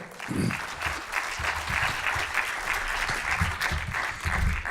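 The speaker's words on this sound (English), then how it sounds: "A round of applause for Gabriel." Sustained audience applause fills a conference hall at a plenary session, steady dense clapping throughout with no speech over it.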